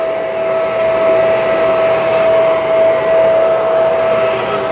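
A Bissell MultiClean Lift-Off pet vacuum runs on carpet, holding a steady, fairly loud motor whine with a high tonal hum throughout, no voices present.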